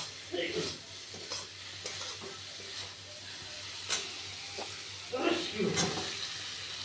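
Fish sautéed in a pan, with soft sizzling and intermittent scraping stirs that swell in a few louder bursts, all fairly quiet and with faint voices in the background.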